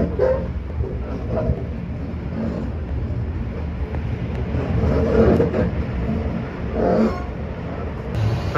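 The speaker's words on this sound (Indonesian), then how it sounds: "Perjalanan kereta api Malioboro Express tiba di stasiun pemberhentian di stasiun Klaten" The Malioboro Express train rolls into Klaten station with a low, steady rumble and some clatter, heard from on board at moderate loudness, with faint background voices.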